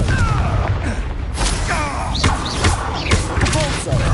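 The Confringo fire spell explodes during combat in Hogwarts Legacy: a few loud booming blasts and crackling thuds come fast one after another, mixed with dense game effects and a character's shouted voice.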